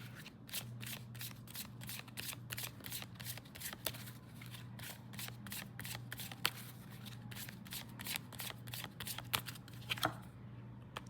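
Tarot cards riffled and shuffled by hand for a reading, a rapid steady patter of card flicks lasting the whole stretch, close and quiet with no talking.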